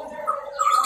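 A green leafbird (cucak ijo) giving a short close call, a brief tonal whistle that rises and brightens toward the end, fairly loud with no talking.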